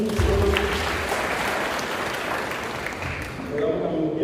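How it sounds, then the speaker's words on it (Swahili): An audience bursts into loud, sustained clapping that fades slightly midway and swells again at the end, while a voice talks over it. "Kamunge from Comfort Homes, tumpigie makofi mazuri"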